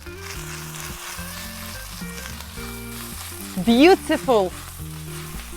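Onions frying in a pan for chicken korma, a steady sizzle under background music, with a brief spoken exclamation partway through.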